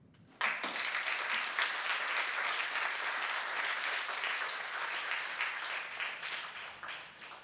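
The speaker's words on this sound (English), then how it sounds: "Please give him a big applause once again." Audience applause after a talk at an MPA seminar, a dense, steady burst of many hands clapping that starts abruptly and holds loud and close for several seconds before tapering slightly.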